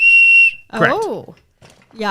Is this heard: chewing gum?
no